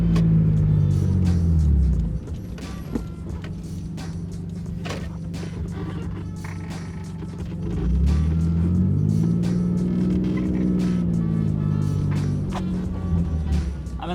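A JDM sports car engine pulls hard through the gears, its loud, close drone climbing in pitch, dropping at a shift, then rising again in a long sustained pull with no talking.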